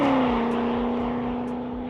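A BMW E39 M5's 4.9-litre S62 V8 with manual gearbox holds a loud, steady growling rev, its deep tone easing slightly lower across a brief close-up burst.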